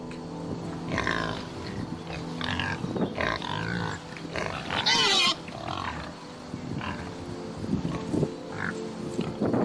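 A pig gives a run of grunts and snorts, some rising into a squeal, fairly close and moderately loud over steady background noise, with short gaps between calls and no talk.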